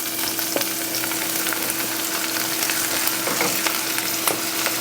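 Onions fry in a pan for beef stroganoff, giving a steady close sizzle with occasional crackles and pops and no talking.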